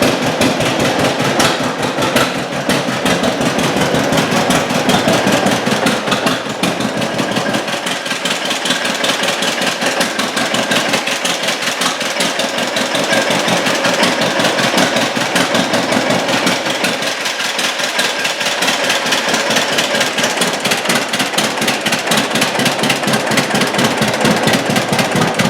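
A 1943 John Deere Model B tractor's two-cylinder engine idles loudly and close by, with an even, rapid chuffing beat that stays steady throughout with no talk.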